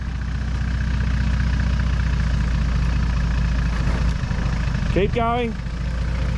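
A Toyota or Nissan off-road vehicle's engine drones steadily and loudly, labouring up the steep Erzberg extreme hill climb, with a voice calling out briefly over the continuous engine noise.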